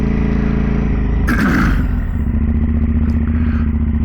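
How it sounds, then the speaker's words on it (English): A 2010 KTM SMT 990 motorcycle with a rattling exhaust, its engine droning steadily and loud throughout while a burst of metallic clatter and scraping flares up near the start, then settles back under the running engine. "I can already hear that exhaust back there rattling. Crazy the way that exhaust rattles"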